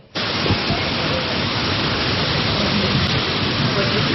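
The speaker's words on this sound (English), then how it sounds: "You can see the heavy rain. You can see the wind. It is pounding right now." Heavy rain and wind pound outside a fire station during a tornado storm, a dense, unbroken roar that starts abruptly and holds loud and steady throughout.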